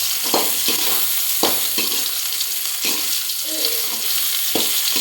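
Tomatoes and green chillies frying in oil for a red chutney, a steady hissing sizzle broken by repeated scraping knocks of a spoon stirring the pan, with no talking.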